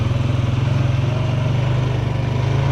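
A four-wheeler engine drones steadily at low revs after shifting down into first gear with two riders aboard, a close, even throbbing pulse with no talk over it.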